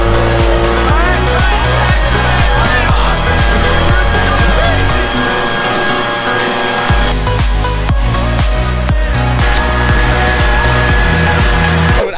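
A motor spins a giant cardboard Beyblade, a loud, continuous whirring drone with rising and falling pitch and rhythmic rattling, close and steady throughout.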